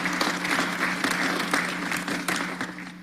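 Applause at a city council meeting in Atlanta, a dense burst of many hands clapping together that carries steadily for a few seconds from a roomful of people.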